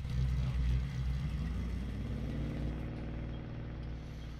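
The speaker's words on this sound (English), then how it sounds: "police department car, that thing is loud. Listen to that." A loud police department car engine in the Farming Simulator video game, a steady mid-pitched rumbling drone that holds fairly constant, heard alone without talk.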